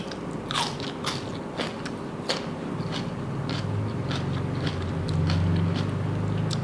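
Crisp bites and crunches into a raw sweet pepper, several sharp crackling snaps in the first half followed by close chewing, with no talking.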